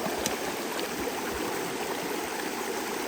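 Tap water runs in a steady, strong stream while a child is bathed, a continuous hissing splash heard close and alone.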